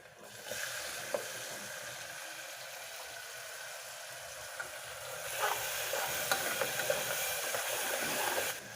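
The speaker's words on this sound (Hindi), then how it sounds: "फिर इसमें काटा हुआ टमाटर ऐड कर देंगे।" Chopped tomatoes hit hot oil in a pan for aloo matar curry, a constant broad sizzle that swells louder partway through, with scattered pops and utensil clicks and no talking.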